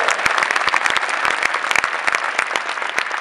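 A crowd claps at the Nassau County State of the County Address, a brisk, dense patter of many hands with individual sharp claps standing out, loud and steady for a few seconds.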